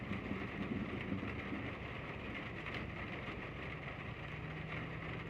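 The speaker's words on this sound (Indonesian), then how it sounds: "mau uji coba off-road malah hujan" Steady rain falling on an off-road Suzuki Vitara trip through a plantation, a faint continuous hiss and patter with a low rumble beneath, no voices.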